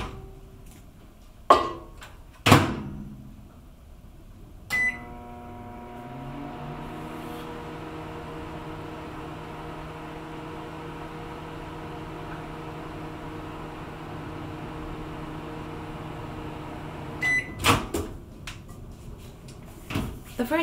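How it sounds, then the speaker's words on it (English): A microwave oven melting colored cocoa butter: a door clunk and beeps, then a steady low hum runs for about twelve seconds before more clicks and beeps as it stops and the door opens. "we pop this into the microwave for 10 seconds increments"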